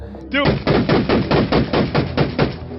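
Rapid gunfire from a rifle fitted with a muzzle brake: about a dozen loud, evenly spaced blasts in quick succession after a brief lead-in, each with a sharp crack and a short ringing tail.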